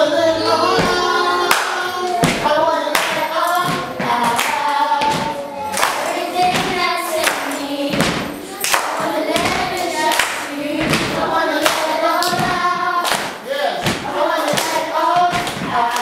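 Hands clapping steadily along with a song, the claps blending into dense music throughout.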